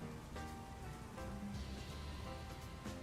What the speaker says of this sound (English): I put the rain sounds on just to make it a little bit extra.